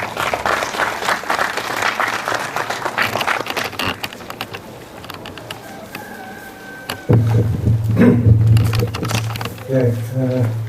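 A hall audience claps at a literary award ceremony, dense applause filling the first several seconds, then fading as a voice and a low hum take over.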